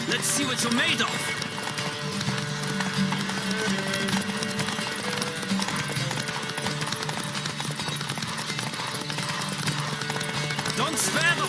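Galloping hooves from a horse race in The Witcher game, a continuous rapid drumming under music and talking voices, moderately loud throughout.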